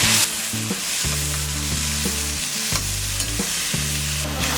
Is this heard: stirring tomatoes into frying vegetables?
yes